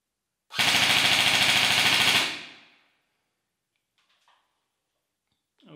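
A VFC VR16 Saber CQB airsoft electric rifle on a 7.4 volt battery fires one loud, rapid full-auto burst of about two seconds. Shots buzz in an even mechanical rhythm, then a short ring-out and faint handling clicks follow.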